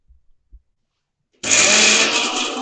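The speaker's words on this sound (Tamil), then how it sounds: "இப்போ மிக்சியில் போட்டு அடித்து எடுத்துக்கலாம்" A mixer grinder blends roasted brinjal masala ingredients, starting abruptly after a couple of faint taps and running as a loud, steady, close whirring drone to the end.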